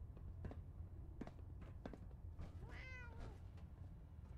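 A cat meows once in Fallout 4, a short, faint rising-falling call heard against quiet ambience and soft footsteps.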